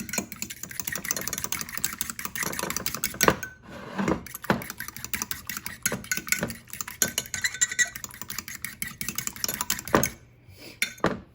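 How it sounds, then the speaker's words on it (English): Eggs are whisked with a fork in a bowl, producing rapid, rhythmic clinking and tapping against the dish, close and fairly quiet, continuing with only brief pauses. "just whisk them with a fork or a whisk, whatever you decide to use"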